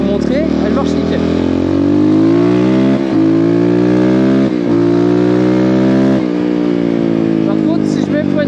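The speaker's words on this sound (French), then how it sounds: "Si j'accélère correctement, petit à petit, je vais vous montrer, elle marche nickel." A 2024 ERZ 250 Pro 250cc motocross bike revving close up, its loud engine note climbing gradually in steady pulls with brief dips between throttle rises, continuous throughout.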